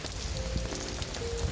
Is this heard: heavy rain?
yes